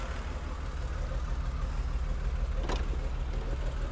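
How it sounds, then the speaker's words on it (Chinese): A warming Mercedes R107 280SL idles at around 800 to 900 rpm, a steady low rumble punctuated once by a short sharp click. "我们来看它的怠速，目前在维持在800多900之间"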